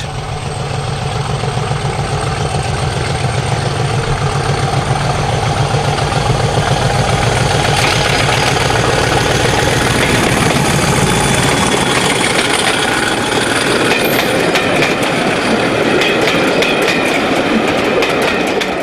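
Diesel locomotive 50015 pulling away from Yarwell on a heritage line, a loud, continuous engine roar building with rhythmic clickety-clack of wheels over rail joints, close by and steady throughout with no talk.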